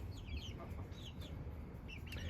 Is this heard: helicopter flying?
no